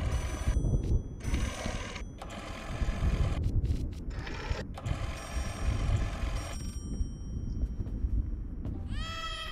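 An old telephone in the horror video game Layers of Fear rings insistently in repeated loud bursts separated by short gaps. The ringing is close and harsh, and it stops near the end.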